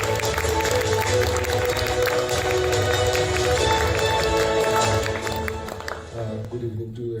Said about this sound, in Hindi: तालियां बजती रहनी चाहिए प्लीज।